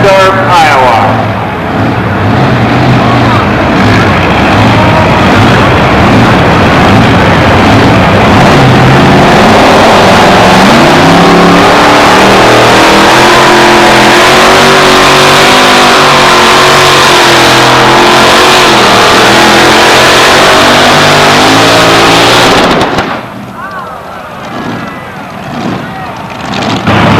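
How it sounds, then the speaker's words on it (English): A Chevy S10 two-wheel-drive pickup roars at full throttle during a truck pull, a loud sustained engine howl rising and holding for over twenty seconds before cutting off abruptly, with an announcer's voice mixed in. "Ray Carpenter, the Sundance Kid Chevy S10, running out of Bettendorf, Iowa."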